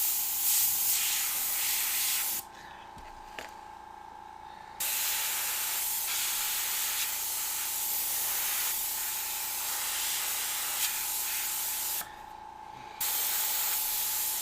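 An airbrush sprays paint during a freehand demon artwork, giving a steady close hiss that runs in long bursts and stops twice for a few seconds before starting again.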